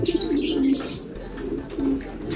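White flight pigeons, newly paired, give soft repeated cooing calls close by, a few low throaty coos overlapping over a couple of seconds.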